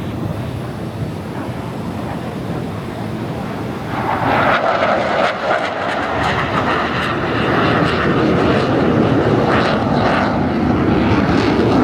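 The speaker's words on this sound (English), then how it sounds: "First fighter jets just flew by and it is so loud" Fighter jets roar past over a beach during a Memorial Day air show in Miami, a loud broad jet rumble that swells and stays heavy, blended with wind buffeting the microphone.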